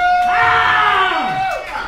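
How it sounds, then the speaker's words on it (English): Comedy club audience at a dive bar gig cheers loudly, with screams and whoops rising together in one sustained burst that gradually dies down. "Clap it up for me for being financially stable."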